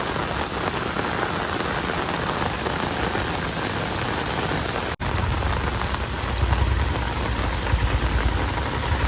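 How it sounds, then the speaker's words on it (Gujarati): Heavy monsoon rain pours down in Gujarat, a loud, dense, continuous hiss of drops on surfaces with no pause, briefly cut once and then resuming with a deeper low rumble. "ઓહો વરસાદ તો ભાઈ બહુ છે અત્યારે"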